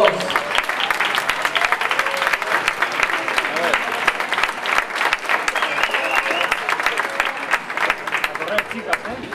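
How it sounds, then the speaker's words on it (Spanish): A crowd at a Latin dance night in Madrid claps and cheers for dancers of a Cuban rueda, with lively, uneven applause and voices calling out throughout. "Un aplauso para ellos."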